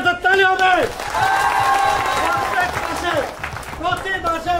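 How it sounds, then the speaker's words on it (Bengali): An audience at a company event applauds, with scattered clapping and crowd noise mixed under someone speaking loudly into a microphone. "এটার জন্য একটা তালি হবে"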